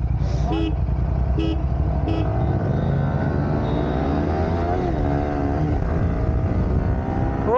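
Motorcycles in a drag race, including a Yamaha R15 V3, R15 V4 and Royal Enfield Continental GT 650, rev and pull away ahead. Engine drone rises and falls, with a few short horn toots near the start and wind rushing past.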